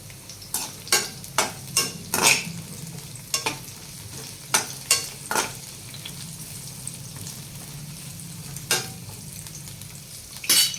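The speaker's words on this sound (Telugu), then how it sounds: "మీడియం ఫ్లేమ్లో పెట్టి అవి డీప్ ఫ్రై చేయాలి" Thick bitter gourd slices deep frying in hot oil over a medium flame, a steady sizzle with a series of loud, sharp spoon clanks and stirring strikes spaced irregularly, close and without talk.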